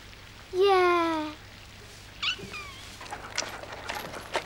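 A farm kitten lets out one clear, loud meow up close, falling in pitch over nearly a second. Faint scattered tapping and rustling follow in the background.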